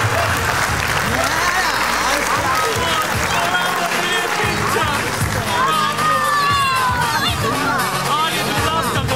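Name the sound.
applause from the audience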